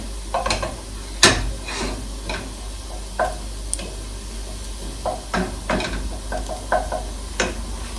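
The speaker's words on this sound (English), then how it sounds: "Kind of want to brown the garlic a bit. Not cook until it's burnt, but nice and brown." Garlic sautéing in a pot for vegan scalloped potatoes gives a steady low sizzle, broken by sharp clinks and scrapes of a utensil stirring against the pot, alone with no talk.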